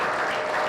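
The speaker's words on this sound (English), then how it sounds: "let's give these kids one more big round of applause" Audience applause at a county 4-H fair sheep show, honoring first-year Sheep Club members; a brief, steady wash of clapping with no talk over it.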